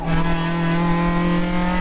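A touring race car engine at sustained high revs during a USTCC race in Las Vegas, a loud, close, steady tonal drone heard from onboard with no talk.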